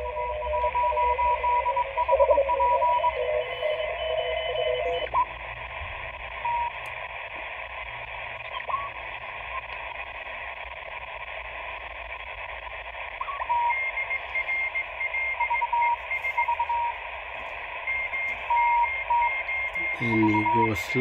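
A Sony ICF-SW55 shortwave receiver tuned to CW Morse code gives steady keyed tones over a constant band of radio hiss and static, clear and continuous for the whole stretch.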